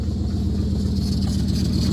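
A Jeep engine runs steadily at idle, close by, a low continuous rumble with a faint rattle and no voices.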